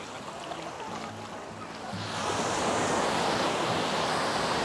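Ocean waves at high tide wash onto a bright sandy beach at Praia do Pontal in Arraial do Cabo, a low rumble that swells into a loud, sustained roar of surf with some wind buffeting the microphone.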